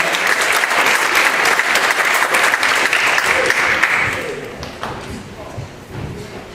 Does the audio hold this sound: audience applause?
yes